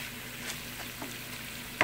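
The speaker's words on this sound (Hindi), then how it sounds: "होल वाली अगर आपके पास लाल मिर्च है तो ये भी डाल दीजिए" Whole red chillies and curry leaves sizzle in a hot oil tadka for dal, a faint, soft crackle with a few small pops and a sharper spatter near the end.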